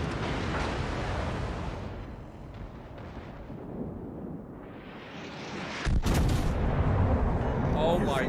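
Heavy naval gunfire in the video game World of Warships Legends, deep booming blasts that rumble, ease off, then hit again with a loud sharp crack near the end.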